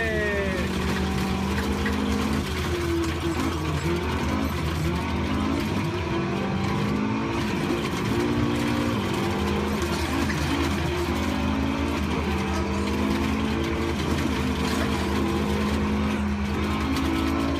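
A car on a race circuit during a track day, its engine note climbing and falling through repeated acceleration and gear changes. It stays loud and continuous throughout, with people talking from inside the cabin.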